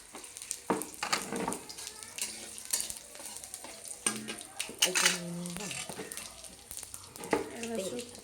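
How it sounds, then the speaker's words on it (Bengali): Dry red chilies and bay leaves sizzle in hot oil with cumin, a dense crackling fry broken by scraping stirs and clinks of a utensil against the pan, close and fairly loud. "শুকনো লঙ্কা আর তেজপাতা দিয়ে দেওয়া হয়েছে"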